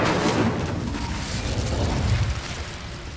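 An Incendiary fire spell blast in the video game Hogwarts Legacy, a loud, dense roaring burst of flame that holds steady for a few seconds and then tapers off, with no voices over it.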